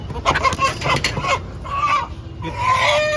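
A cluster of country chickens at a poultry shop clucks and squawks loudly and continuously close by, with bursts of raised calls and a murmur of people nearby.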